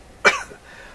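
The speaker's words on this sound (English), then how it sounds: "I gotta stop and clear my throat" A single short, sharp throat-clearing burst, close and fairly loud, followed by quiet.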